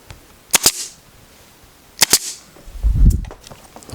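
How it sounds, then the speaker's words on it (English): A staple gun fires into upholstery fabric, two quick pairs of sharp, loud snapping clacks about a second and a half apart, followed by a low rustling thump as the fabric is handled. "so you only want to staple down 1/2 inch."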